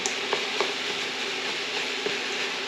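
Ground meat for sloppy joes browns in a hot pan with a steady close sizzle, broken by a few light scrapes and taps of a utensil stirring it.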